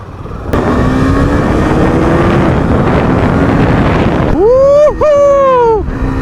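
A Husqvarna Vitpilen 250 BS6 motorcycle revs up and rides off, its engine droning loud and close under heavy wind rush, then climbing sharply through the gears with rising, dipping engine pitch near the end.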